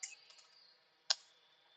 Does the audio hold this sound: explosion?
no